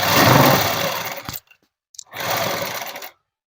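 A sewing machine stitches folded net cloth for a dress, with a close, loud motor whirring in two bursts of roughly a second and a half each, separated by a short pause.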